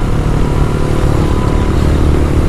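A beginner motorcycle engine revving hard and loud up close, a rough, constant high-rev drone with clattery mechanical texture and no pauses.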